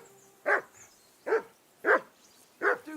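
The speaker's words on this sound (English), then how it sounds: "Call off that damn dog!" Four evenly spaced sharp barks from a dog in Kingdom Come: Deliverance II, roughly one every 0.7 seconds, close and clear with quiet gaps between them.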